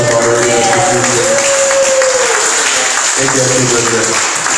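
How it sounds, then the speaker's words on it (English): Crowd applause at a town hall meeting on the west side of Wai'anae, a dense steady clapping from the audience with tonal sounds and faint voices mixed underneath. "can you folks give Andy Bridget a big round of applause for Father and Jesus?"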